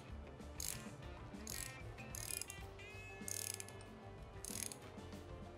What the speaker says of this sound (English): stick the nuts on, and we're gonna draw it into the taper first to tighten it up